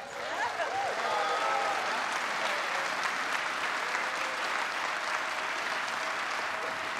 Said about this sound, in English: Can we get one more round of applause in the background here?